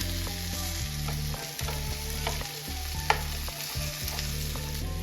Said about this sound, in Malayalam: നമ്മുടെ മീനെല്ലാം തിരിച്ചിട്ടു ഇനി മറു സൈഡ് കൂടെ ഒന്ന് മൂക്കട്ടെ